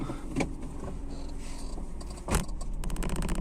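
Inside a small Citroën C1 car, a steady low engine hum and road rumble with keys jangling, a sharp knock midway, then a rapid clicking rattle near the end.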